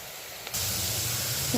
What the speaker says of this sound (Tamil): நல்லா வெங்காயம் வதங்குது இப்போ வெங்காயம் நல்லா வதங்கட்டும்